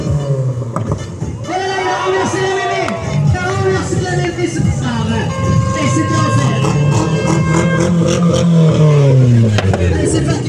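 Monster truck engine revving and accelerating at an evening show at the end of the track, rising and falling throaty roars over constant crowd murmur, with an announcer talking throughout.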